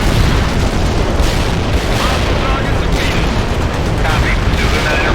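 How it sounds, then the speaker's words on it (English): Heavy artillery fire in the World in Conflict video game, a dense, continuous barrage of booming impacts and rumble at steady high loudness, with voices heard amid the din. "Heavy artillery fire inbound"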